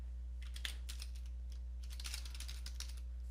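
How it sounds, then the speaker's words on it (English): Quick bursts of computer keyboard typing on a Windows 10 PC, close and fairly quiet over a steady low electrical hum, with a short pause between two runs of keystrokes. "type in troubleshoot."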